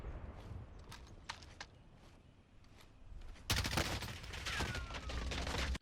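Gunfire in the video game Warzone: scattered distant shots and footsteps, then a sudden louder burst of rapid automatic fire that continues to the end.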